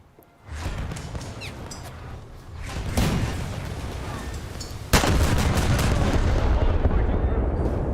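Warship guns firing in the naval battle game World of Warships: repeated booming salvos and rumbling cannon fire, loud and close, with a heavy blast near the middle and sustained battle noise after it.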